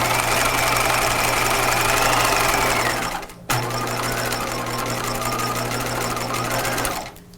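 A sewing machine runs a straight-stitch seam on pajama fabric, a fast even mechanical whir in two bursts separated by a brief pause, close and loud with no voices.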